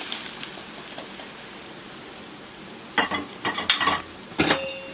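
Sautéed onions are tipped into a pan and stirred. A quiet background gives way to a handful of sharp, close scrapes and clinks from the spoon against the metal in the last two seconds.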